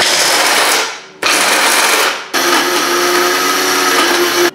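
A kitchen blender grinds almonds into powder in three loud, continuous bursts, the first two tapering off as the motor winds down and the last running steady to the end.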